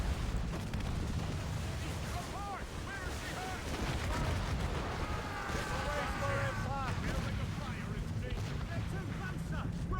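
Naval battle in Assassin's Creed with ship mortars and cannons firing: continuous rumbling barrage of dull booms amid sea and battle noise, with a person talking over it.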